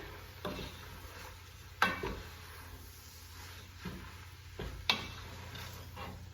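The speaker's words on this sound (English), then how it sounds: "I kind of give it a stir and I let the oats like absorb the liquids from the meat" A spoon stirs quick oats into cooked meat in a pot for homemade dog food, giving a faint wet sizzle with a few soft scraping knocks against the pan.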